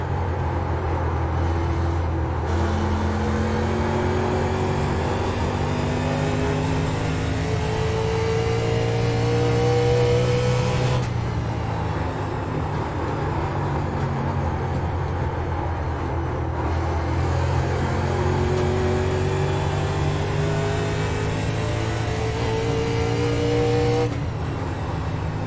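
Race car engines roar continuously in an eSports racing game set at Iowa, with rising and falling pitch sweeps as gears shift and cars accelerate, loud and close with no voices.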